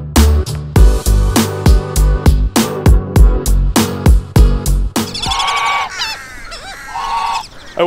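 Geese honk loudly and close by at a Walmart overnight parking lot, a rapid run of sharp, evenly spaced honks followed by higher, wavering calls and a pause before another honk.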